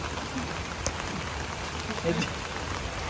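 Steady heavy rain hisses across the whole clip at a farm, a dense even wash with a few faint knocks and a murmur of voices underneath.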